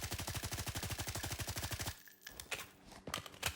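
Suppressed M4 rifle firing in the video game Blackhawk Rescue Mission 5, a rapid, steady automatic burst of about two dozen muffled shots, then a few scattered single reports after a short pause.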